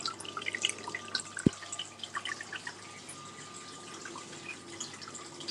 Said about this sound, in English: You just sit there for a little while, listening to the water trickling.